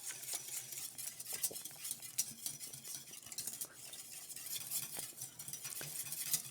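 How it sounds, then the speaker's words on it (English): Chocolate pudding is whisked constantly in a pot on a high stovetop, with a continuous quick scraping, clinking rhythm of the whisk against the pot, fairly quiet and close. "I've been whisking constantly."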